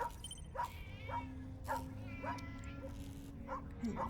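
A dog in Tales of the Neon Sea barks repeatedly at a steady pace, about seven sharp yips, moderately close over a low background hum.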